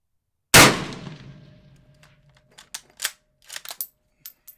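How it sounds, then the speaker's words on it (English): A Mosin Nagant rifle, either an M91 or a 91/30, fires one sharp, loud shot that rings out and decays. A series of quieter metallic clicks and clacks from the bolt follows. "So let's get to shooting, see how they do."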